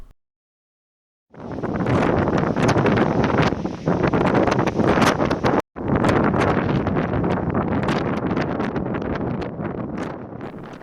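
Strong wind on a mountain in Glenmalure, roaring and buffeting loudly against the microphone after a short silence, with a brief dropout midway, then continuing harsh and gusty.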